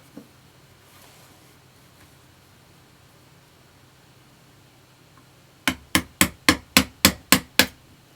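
Eight sharp hammer blows strike in an even, quick rhythm in a Japanese printmaking workshop, loud and close, after several seconds of near-silent room tone.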